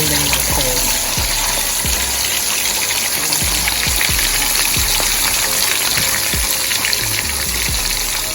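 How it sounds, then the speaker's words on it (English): Steady, loud crackling and sizzling of fish frying in hot oil, continuous throughout with small pops scattered across it. "I'm gonna preheat the oil and start frying them."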